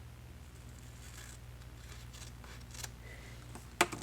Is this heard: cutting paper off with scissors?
yes